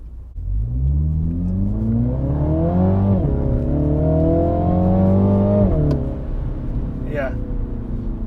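A JCW Mini Countryman ALL4 four-cylinder engine and exhaust pulling hard, revs rising through two upshifts with brief dips, loud and close from inside the car, easing off near the end.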